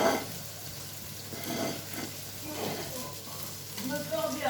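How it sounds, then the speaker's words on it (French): Mackerel fillet frying in a pan gives a steady, fairly quiet sizzle with soft crackles, continuing without break and swelling slightly toward the end. "Donc notre filet de maquereau commence. La cuisson commence à être pas mal."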